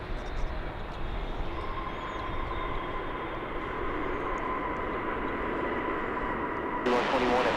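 An airliner touching down on runway 17 Center at Dallas Fort Worth International Airport makes a continuous broad roar of engines and rushing air. The sound stays steady and fairly loud, then a harsher burst comes near the end.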